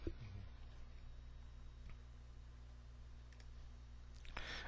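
Mouse clicks on a button in a web application, a few faint, isolated clicks near the end over a low steady background hum, with no talking.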